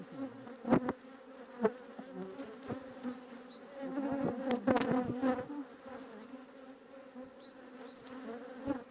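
Honey bees buzz steadily around an open nucleus hive being split to form a new swarm, a dense droning hum with louder passes of individual bees close by and a few soft knocks of hive handling.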